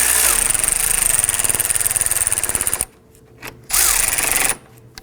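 A power tool whirs in loud bursts while tightening bolts on the condenser fan assembly of a 2005-2009 Subaru Legacy 2.5L, with a long burst, a short pause, and a second burst.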